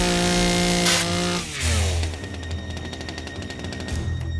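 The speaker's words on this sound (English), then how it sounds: "Oh, it's a real chainsaw." A real chainsaw running loudly and close, its engine droning steadily and then dropping in pitch before settling into a rough, buzzing idle-to-mid rev, with no talk over it.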